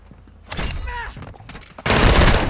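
Video game gunfire: scattered shots and a brief voice, then a loud, continuous volley of rapid fire closing out the moment.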